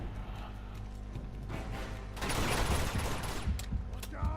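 Gunfire in Uncharted 2: Among Thieves during a firefight, a burst of rapid shots breaking out around halfway through over a constant background din, fairly faint overall.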